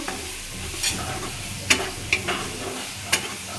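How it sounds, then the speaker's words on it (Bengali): Tomato paste sizzling in a pan for prawn malai curry over raised heat, steady frying hiss broken by a few sharp spoon scrapes and clicks as it is stirred. "তারপর সুন্দর করে এটা কষিয়ে নেব"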